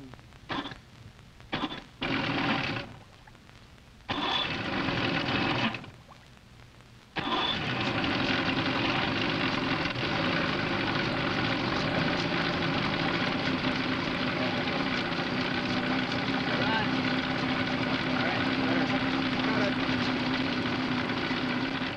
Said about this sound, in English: I think we're ready to start the motor up, David.